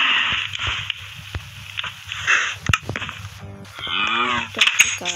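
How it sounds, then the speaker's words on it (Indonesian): Cows moo in the Minecraft video game, several drawn-out bovine calls spaced across a few seconds alongside light in-game background noise, with no talking. "Sekarang aku mau kasih makan sapi-sapiku."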